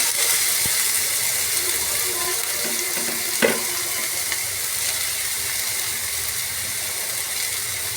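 Chopped potato and onion frying in oil for a cheese omelet, a steady close sizzle with faint crackles and a brief clink of a utensil partway through, with no talk.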